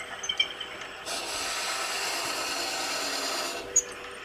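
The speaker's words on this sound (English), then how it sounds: "Anytime you're drilling with a Forstner bit like that, it's a good idea to go slow and back it off" A Forstner bit bores slowly into a spinning wooden gnome ornament blank on a woodturning lathe, giving a steady rough grinding rasp for a few seconds between lighter scraping touches at the start and end.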